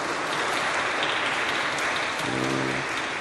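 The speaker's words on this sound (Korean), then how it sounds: "박수 한번." Church congregation at a Sunday service applauding a visiting professor, a continuous broad patter of many hands that stays level, with a low tonal hum entering near the end.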